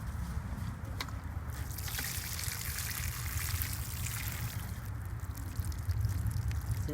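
Water is poured steadily onto newly planted clearance garden plants outdoors, a soft continuous trickle and splash that runs for several seconds at low level, with no talking.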